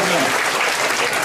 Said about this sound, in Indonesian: Tepuk tangan untuk Imam.